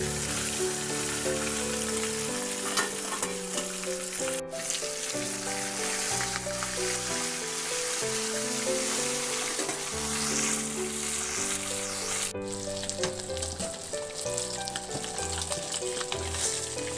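Garlic sautéing in a pan with a little oil, giving a continuous sizzle that runs the whole way under melodic background music.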